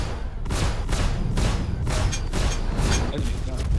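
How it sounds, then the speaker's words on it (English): Enemy gunfire striking a player's large spaceship in Star Citizen, a rapid run of heavy booming thuds and blasts, loud and close throughout. "They're shooting at me."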